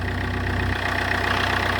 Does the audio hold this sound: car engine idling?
yes